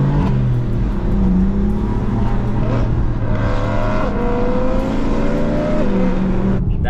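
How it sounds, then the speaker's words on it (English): A loud BMW E92 M3 engine drones steadily at close range, with a rising and falling tone as it revs and accelerates. "That E92 is so loud."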